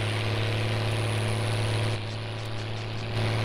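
Sonalika 60Rx tractor in Farming Simulator 19 pulling a big trolley, its engine a steady low drone with a constant hum that dips slightly midway and then returns to full level.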